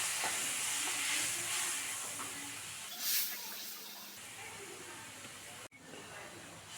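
Hot water poured into a pan of chilli-powder masala for Kerala-style konju theeyal gives a short, soft burst of steamy hissing. Quieter sizzling and handling noises follow.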